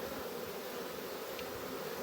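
A swarm of honeybees moving into a nuc box makes a steady, close, droning buzz that holds without break, with no talking over it.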